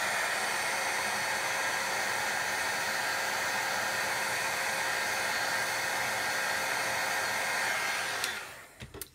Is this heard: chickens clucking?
no